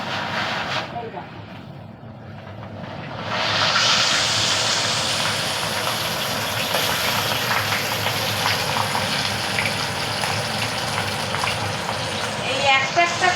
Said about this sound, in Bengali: এই মাছগুলোকে আমি একটা একটা করে ভেজে নেব